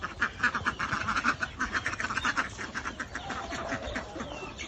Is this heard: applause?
no